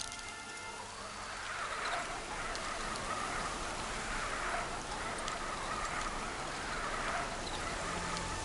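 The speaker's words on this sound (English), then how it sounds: "Here comes the rain." Rain falling in the open world of the video game Horizon, a steady soft patter of drops with faint ticking detail that swells slightly after the first second and holds evenly throughout.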